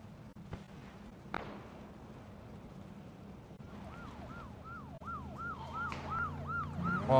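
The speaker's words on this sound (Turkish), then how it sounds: "Tam arkamda bir tane polis arabası var." Police car siren wailing in repeated rising-falling sweeps within PUBG gameplay, starting midway and growing louder as it approaches close behind, over steady engine and wind noise.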